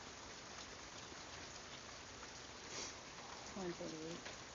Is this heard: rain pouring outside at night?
yes